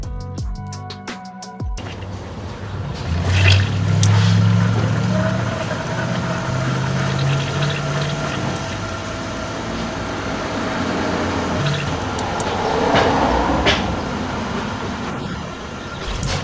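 A BMW F30's electric water pump runs during a coolant system bleed with the gas pedal held down, giving a steady, continuous whirring hum under broad engine-bay noise. It holds at an even level for the whole stretch.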